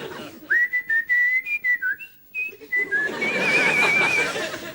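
Someone whistles the Sports Night theme tune, a wavering melody with short phrases and a brief pause, ending in a trilling note over soft background noise.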